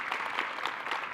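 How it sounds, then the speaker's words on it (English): Brief burst of moderate clapping from an audience at a school district gathering, even and sustained without a break. "Give him a round of applause."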